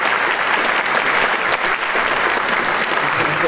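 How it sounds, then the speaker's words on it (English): A summit audience gives sustained, loud, even applause for the moderator, a dense wash of many hands clapping throughout. "And also a round of applause for Michael, our wonderful moderator"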